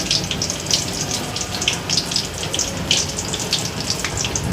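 Meal maker pakodi frying in hot oil, a steady dense hiss and crackle throughout with no talking, sizzling bursts rising and falling at a close distance.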